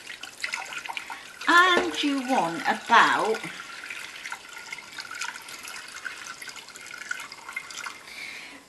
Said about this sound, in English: I'm adding it from the kettle just because I've got water in there to hand.